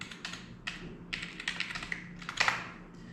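Fingers typing a terminal command and password on a computer keyboard, a close run of quick irregular key clicks with short pauses between bursts, heard alone.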